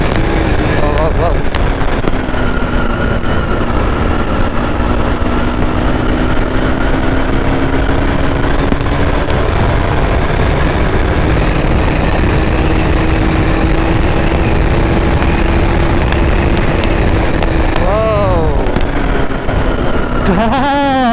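A KTM motorcycle engine rising under hard throttle toward high speed, a loud droning whine that climbs steadily in pitch, buried in heavy wind buffeting, with a rider's voice breaking in over it.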